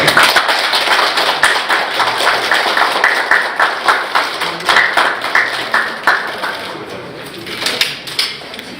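A crowd at an event with the Prime Minister claps together in a rhythmic, unison beat, with individual claps growing more distinct and evenly spaced toward the end.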